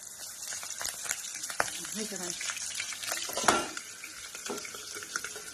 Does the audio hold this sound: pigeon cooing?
no